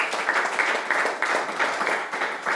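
A church congregation applauds in continuous, dense clapping during a Sunday worship service in Lille, an even patter of many hands with no voices over it.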